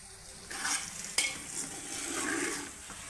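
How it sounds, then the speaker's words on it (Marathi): A vegetable curry cooks in oil in a pan, stirred and sautéed with a soft, continuous sizzle. A spoon scrapes and clinks against the pan in short bursts, and one sharp knock rises above the quiet frying. "हे चांगलं तेल सुटेपर्यंत आपण परतून घेणार आहे"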